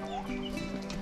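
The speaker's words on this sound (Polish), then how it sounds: "Wyłaź, kura." Hen clucking on a farm amid other poultry, a busy, continuous layer of clucks and farmyard sounds throughout.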